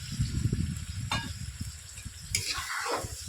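Meat and ridge gourd sautéed dry in a pan, steady sizzling with a spatula stirring and scraping at intervals, close and fairly loud.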